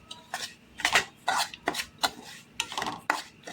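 Semolina (rava) for pineapple kesari dry-roasting in a pan, stirred with a utensil that scrapes in a steady rhythm of short, close strokes, about eight across the span, with no talking.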